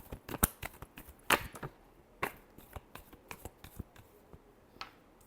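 Sharp crisp riffles and snaps of tarot cards being shuffled, several distinct bursts spaced irregularly over quiet room tone, close and fairly soft.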